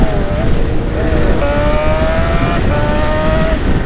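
A sport motorcycle such as a ZX6R or CBR600 revs loud and close on a road ride, its engine tone rising and falling over steady wind noise.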